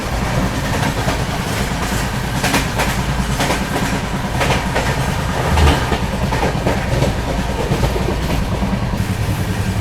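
A Rajdhani Express train runs at speed, about 100 to 110 km/h, on the Mumbai CSMT to Hazrat Nizamuddin route, giving a loud, continuous rumble with rhythmic clickety-clack from the wheels on the rails.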